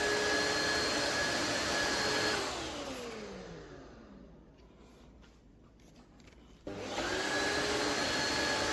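A Tineco iFloor 5 wet-dry floor vacuum runs loud and steady, its whine dropping away as it powers down partway through, then snapping back on at full strength for the last couple of seconds.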